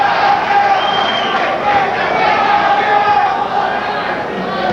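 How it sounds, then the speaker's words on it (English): A boxing arena crowd reacts to a punch landed by James Scott against Jerry Martin, a steady, distant roar of many voices with no single voice standing out. "prompting a reaction from the crowd"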